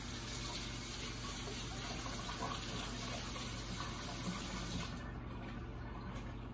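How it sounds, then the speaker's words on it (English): Hot tap water runs steadily over a metal bench scraper in a kitchen sink, a close, continuous splashing gush that thins slightly near the end, with no talk. "Next thing we're gonna do is rinse off the bench scraper and get it nice and hot."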